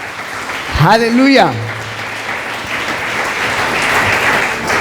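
A church congregation applauds for a sustained stretch after a voice calls out, the clapping steady and fairly loud.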